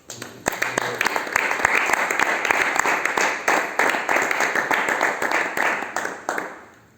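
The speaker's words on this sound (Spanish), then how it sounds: "Fuerte el aplauso para Dios." A church congregation bursts into loud, full applause during a Bible class, steady dense clapping for several seconds with faint voices underneath, fading toward the end.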